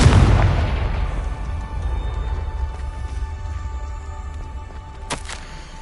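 A Confringo blasting spell explodes in Hogwarts Legacy with a single loud, close boom that decays into a long rumbling tail, followed by a faint sharp crack near the end.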